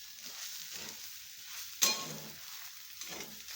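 Potato filling for batata vada, seasoned with salt and coriander, is stirred and sautéed in a pan: a soft ongoing sizzle with scraping strokes and one sharp metallic clink midway.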